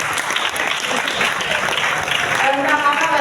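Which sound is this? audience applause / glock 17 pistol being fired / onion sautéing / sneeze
audience applause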